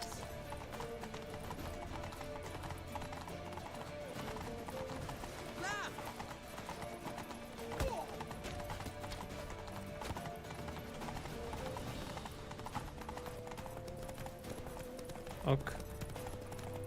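Rhythmic horse hoofbeats clip-clop steadily in The Witcher 3 Next Gen under a constant mix of game music and ambience, with a brief whinny-like sound partway through.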